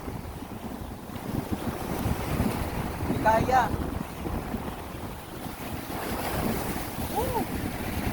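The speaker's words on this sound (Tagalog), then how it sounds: "Sobrang lakas ng hangin." Strong wind buffets the microphone in a steady roar over water, with a brief voice speaking partway through.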